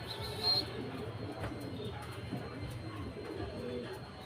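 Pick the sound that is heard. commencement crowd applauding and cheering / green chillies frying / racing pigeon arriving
racing pigeon arriving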